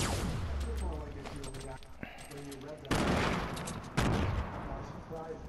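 Grenades burst in a Fortnite match, two sharp, loud explosions landing a second apart amid game gunfire, with a brief voice earlier.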